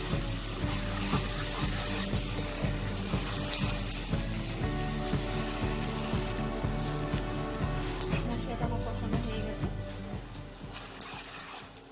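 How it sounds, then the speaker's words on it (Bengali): Spice paste with salt fries in a pan for a Bengali climbing perch curry, giving a steady sizzle with stirring clatter through the whole stretch under music-like tones and occasional talk. "পরিমাণ মতো নুন, দিয়ে মশলাটাকে একটু ভালো করে কষিয়ে দিই।"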